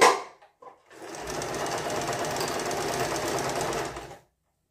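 A sewing machine stitches a sleeve seam on a dress in one steady, close run of about three seconds, with a couple of faint clicks before the motor starts and nothing after it stops.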